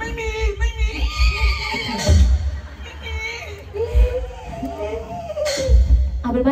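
A horse whinnies loudly in a string of rising and falling neighs mixed with crowd chatter and voices nearby, the calls repeating several times at close range.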